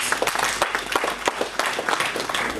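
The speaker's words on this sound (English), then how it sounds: "I believe we deserve a round of applause for ourselves" Dense, close applause from the people gathered at a bank business event, sustained for a few seconds without a break.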